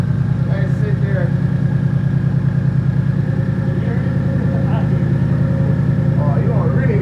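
A Whipple-supercharged 2018 Mustang 5.0 engine idles with a steady, loud, even low rumble and pulsing exhaust throughout, while people talk over it.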